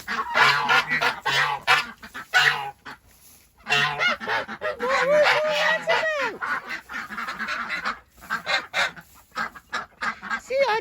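Geese honk and ducks quack in a poultry tunnel, loud repeated calls in bursts near the microphone, mixed with a person talking over them.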